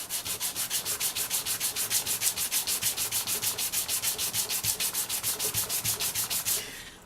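Wood rubbed on a flat sanding block in rapid, even back-and-forth strokes, about five per second, close and steady, then stopping abruptly at the end with no one talking.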